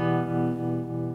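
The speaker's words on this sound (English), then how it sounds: "That's just the tremolo of the amp." Electric guitar played through a Vox Pathfinder amp with its tremolo effect and distortion, a sustained distorted chord pulsing steadily in volume, close and loud with no talking.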